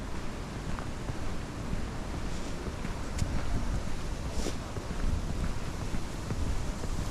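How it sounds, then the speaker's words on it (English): Wind gusts steadily against the microphone on a woodland trail, a loud, continuous rushing roar that swells and eases without a break. "Definitely feel the wind on this side."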